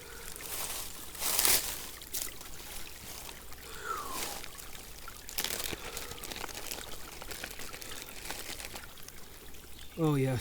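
Water being poured out of a container outdoors at a lean-to campsite, a steady broadband splashing trickle lasting several seconds over wind and rustling, fairly close, with a brief voice near the end.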